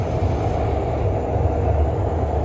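Montreal REM light rail train riding from downtown to Brossard, a steady loud rumble and hum from inside the car without pauses.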